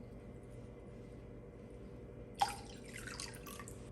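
About one and a half cups of water is poured into a bowl for nylon khaman batter. After quiet room tone, a short splashing pour bursts out midway and fades within about a second.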